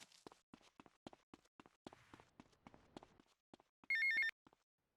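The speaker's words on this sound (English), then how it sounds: "We want to take another phone call here from Cortez this time." A telephone rings in GTA Vice City in one short, loud electronic burst near the end, after a run of steady in-game footsteps.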